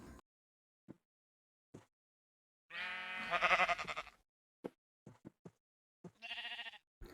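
Sheep in Minecraft Pocket Edition bleat twice, a long wavering bleat and then a shorter one, among soft scattered clicks and taps from game actions, with no voices.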